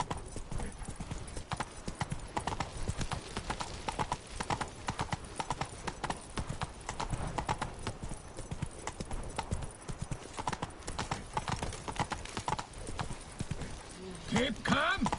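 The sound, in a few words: horse Roach galloping, hooves clip-clopping, from video game Witcher 3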